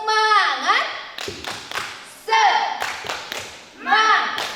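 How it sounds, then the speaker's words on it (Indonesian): Children at a Sunday school service perform a rhythmic clap chant, sung phrases alternating with quick bursts of sharp hand claps in a repeating pattern, loud and close. "Tepuk Semangat."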